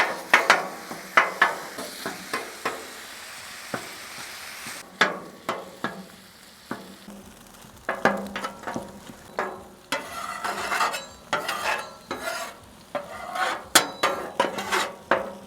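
Two pounds of medium ground beef browns on a Blackstone griddle over medium heat, with steady frying sizzle beneath repeated sharp scrapes and clanks of a spatula stirring and chopping the meat up close.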